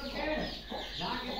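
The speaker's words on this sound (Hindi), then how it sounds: "कुकड़ियां दे बच्चे" Hens and chicks cluck and peep in a steady, busy stream, close by, with a voice speaking faintly over them.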